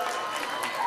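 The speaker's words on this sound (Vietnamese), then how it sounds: "xin mời bà con hãy cho một tràng pháo tay nữa cho tất cả 10 chị em" At a Vietnamese women's association Lunar New Year 2008 celebration in Bratislava, the crowd gives a round of applause, a soft, steady patter of many hands mixed with faint cheering and murmured voices.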